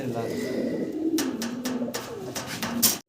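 Lahori pigeons coo in a low, continuous murmur at close range, with a few sharper clicks and rustles layered over it.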